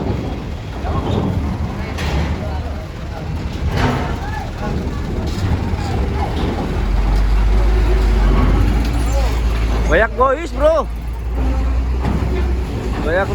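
Trucks rumble inside a ferry at Merak harbor, a deep engine drone swelling under echoing hull noise, with someone talking casually over it.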